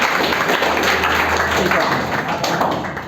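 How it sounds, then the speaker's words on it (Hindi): An audience of students and teachers at a school felicitation gathering breaks into applause: dense, close, continuous clapping that lasts about three seconds without a break. "एकदम आज जोरदार तालियां।"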